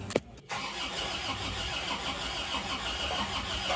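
Isuzu Panther engine cranked by the starter and catching, a brief click and whir before it fires into a steady, close idle rumble with no talk.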